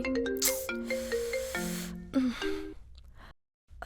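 A mobile phone rings with a bright electronic melody of stepped tones, loud and near, the tune playing through several notes before cutting to silence near the end.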